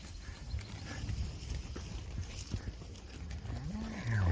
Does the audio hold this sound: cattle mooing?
yes